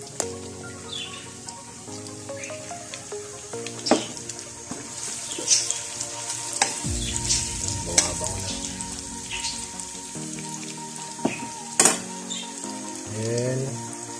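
Ginger sautéing in a pan for a Filipino mussel dish, with a soft, steady sizzle, sharp clinks of utensils against the pan, stirring, and faint birdsong in the background.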